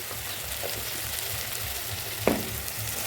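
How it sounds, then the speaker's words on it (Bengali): Spices sautéing in a pan for moong dal made with a fish head, a constant even sizzle with one brief scrape of stirring, close and steady with no talking. "ভালো করে মশলাটাকে কষিয়ে নিতে হবে"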